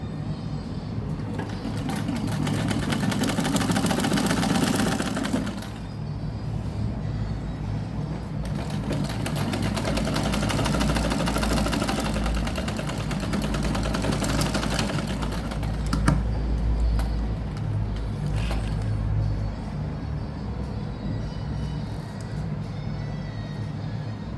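Sewing machine running without thread along a blouse neckline, a steady mechanical whir that goes on for nearly the whole stretch and pauses briefly a few times, close and fairly loud with no voices.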